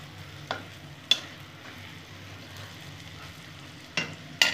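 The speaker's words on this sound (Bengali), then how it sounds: "যাই হোক, একটা লঙ্কা দিয়ে দেবো বন্ধুরা। একটু নেড়ে নেব।" Motorshuti paste with a green chili being stirred in a pan, a faint low sizzle under a few sharp scraping knocks of the spoon spaced a second or more apart, with no voices.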